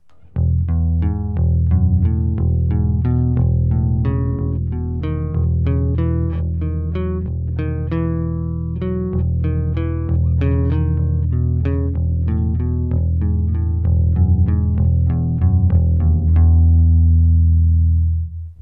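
An electric guitar played with a plectrum runs through ascending and descending thirds, an open E drone struck between every note, in an even, steady, driving rhythm with effects-laden tone, loud and alone for about eighteen seconds.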